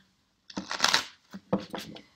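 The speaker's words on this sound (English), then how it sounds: "I have shuffled these cards after each reading" Tarot cards being shuffled by hand, two quick riffling bursts of papery flutter, close and clear with no talking.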